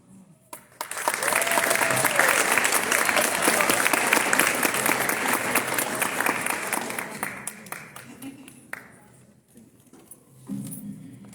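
Graduation ceremony audience bursts into applause, starting abruptly, holding strong for several seconds, then thinning into scattered claps before a voice speaks near the end.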